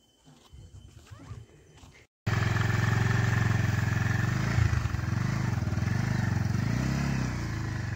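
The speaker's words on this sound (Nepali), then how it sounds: "सानोले चाहिँ बाइक फर्काउँदैछ।" Motorcycle being turned around on a road, engine starting abruptly after a quieter stretch and then running loud and close, with revving rises and dips in pitch as it maneuvers.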